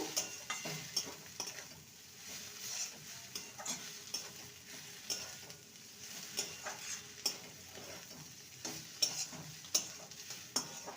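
A spoon stirs and mashes cauliflower with chopped coriander in a bowl, giving soft, irregular scraping and clinking taps over a low background, with no talking.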